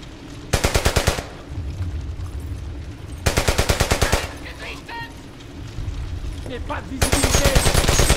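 Bursts of automatic gunfire in the World War II shooter Brothers in Arms: Hell's Highway, three loud rapid machine-gun volleys separated by battle noise and scattered distant shots.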